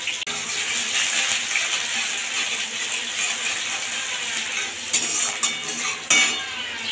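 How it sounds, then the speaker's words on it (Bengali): Chopped onion sizzles in hot spiced oil for frying chicken, a steady bright crackling hiss filling the whole stretch, with a few sharper stirring clatters near the end. "ফোড়নটা রেডি হয়ে গেলে দিয়ে দেবো পেঁয়াজ, সামান্য, বেশি না,"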